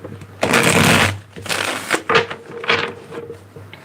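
Close, loud bursts of tarot cards being shuffled by hand, three riffling runs of papery flutter separated by short pauses.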